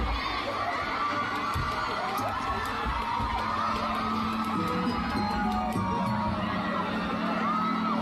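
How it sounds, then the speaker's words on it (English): A large concert crowd at a world tour show in Dubai cheers and screams continuously, a dense wall of whoops and shouts sustained at steady loudness. "And the crowd goes wild."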